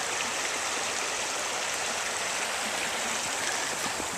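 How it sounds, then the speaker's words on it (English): A low-running river trickling and rushing in winter, a constant broadband watery hiss that stays even throughout with no voices. "This is actually a rushing river. Believe it or not, it's trickling right now."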